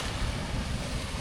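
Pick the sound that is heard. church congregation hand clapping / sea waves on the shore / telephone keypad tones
sea waves on the shore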